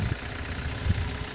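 A Hummer camper van with a Citroën 2.5 turbo engine idles at a steady, low, even rumble, close by, with faint knocking pulses and no voices.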